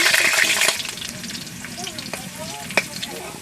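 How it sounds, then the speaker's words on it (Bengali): Potatoes frying in mustard oil in a wok, a loud crackling sizzle that settles into steady bubbling with scattered pops and stirring clinks, close and alone. "প্রথমে আলুগুলো ভেজে নেব। দিয়ে দিচ্ছি আলু।"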